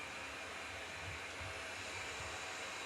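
A Eufy RoboVac 12 robot vacuum cleaner running, a steady whirring hum of motor and suction that continues evenly throughout, with no talking.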